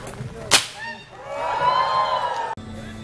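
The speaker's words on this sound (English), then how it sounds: "I'm just going to crack this whip one time" A single sharp whip crack rings out at a Pennsylvania renaissance faire, followed by a rising crowd roar and cheering.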